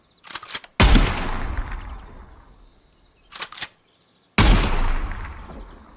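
A shotgun in the video game Gunsmith Simulator fires at a 100-metre range, two loud blasts a few seconds apart, each with a long fading tail, plus brief mechanical clacks of reloading between shots.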